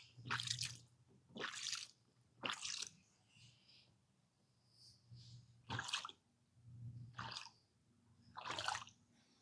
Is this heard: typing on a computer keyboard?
no